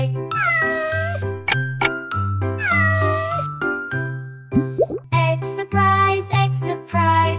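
A kitten meows repeatedly in clear, high, drawn-out cries, close and loud, with light tinkling and knocking sounds between the calls.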